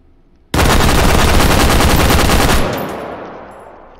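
An extremely loud, fast automatic burst from a gun in the VR shooting game H3VR, roaring continuously for about two seconds and then trailing off in a long echoing decay, with no talking.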